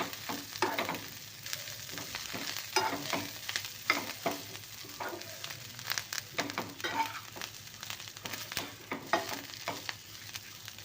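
Tamarind leaves fry lightly in a pan for a tamarind-leaf chutney, with a steady soft sizzle and frequent scraping stirs of a spoon against the pan, close and moderately loud.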